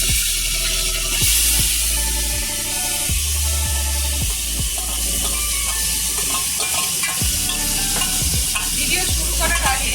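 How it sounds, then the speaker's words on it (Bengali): Marinated chicken frying in a hot pan for biryani, a loud continuous sizzle with repeated scraping stirs of a spatula against the metal, close up and without any speech. "এবার আমি ম্যারিনেট করা চিকেনটা দিয়ে দেবো।"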